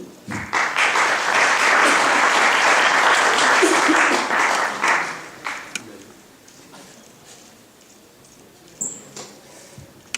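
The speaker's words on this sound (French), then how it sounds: "On peut l'applaudir." Audience at a lecture hall applauding a speaker, a full burst of clapping for about five seconds that then thins to scattered claps and quiet room noise.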